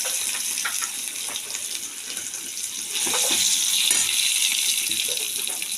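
Vegetables with potato, turmeric and salt frying in a pan for a vegetarian dish, giving a steady, fairly loud broadband sizzle that swells slightly halfway through, with no talking.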